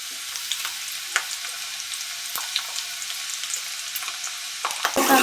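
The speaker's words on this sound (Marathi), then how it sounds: "कांदा छान परतून घ्यायचा, जास्त काही ब्राऊन करायची गरज नाही, सॉफ्ट होईपर्यंत करायचं" Chopped onion sautés in a pan for a Maharashtrian matar batata masala, crackling in a dense, steady sizzle with scattered pops and spoon scrapes, louder stirring toward the end.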